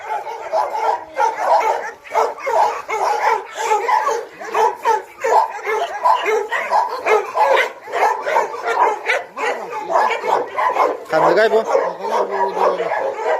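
Yakutian laika dogs bark at a hunting dog kennel in Yakutia, several dogs yapping in quick overlapping bursts nearby, with whines mixed in and some faint talk.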